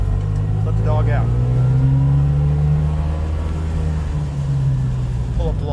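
A two-stroke car engine drones steadily and loudly up close, its pitch dipping and shifting slightly as the car slows and pulls over.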